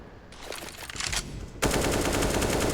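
AK rifle spray fire in CS:GO during an ESL Pro League match on Mirage, a dense rapid burst of automatic gunshots that swells into louder sustained fire.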